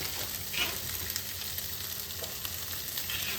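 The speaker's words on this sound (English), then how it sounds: "I'm gonna dump these tomatoes and these onions, no seeds, into the skillet" Tomatoes and onions, seeds removed, sizzle in a hot skillet with a soft, steady crackle and occasional faint pops, no voices over it.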